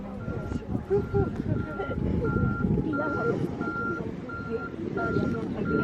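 Steady, evenly spaced reversing beeps from nearby construction vehicles, repeating under a rumbling engine and people talking outdoors at the Solina Dam.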